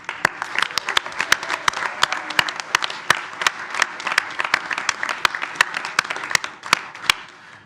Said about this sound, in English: Congratulations to both the players and coaches, and a round of applause